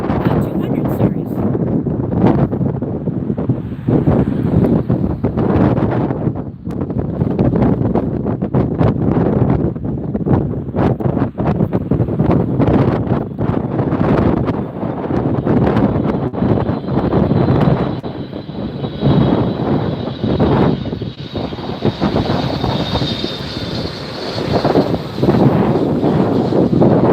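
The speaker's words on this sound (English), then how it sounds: "It almost blew the camera over. We got a gust of wind there that picked up." Strong wind buffets the microphone during live planespotting at LAX airport, a heavy, continuous rumbling roar with gusty surges that almost tip the camera. A voice talks intermittently underneath, and a faint aircraft engine whine sits in the background.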